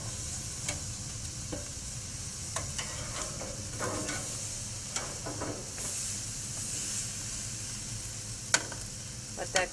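Apple butter ribs sizzling as they cook, a soft steady hiss and crackle with scattered small pops and clicks of handling, fairly quiet and close, with no talking.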